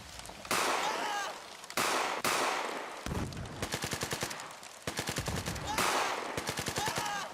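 Processed war-scene gunfire, passed through a mastering processor: heavy bursts of automatic rifle fire alternate with single loud shots and rapid rattling volleys, loud and dense throughout with a close, compressed punch.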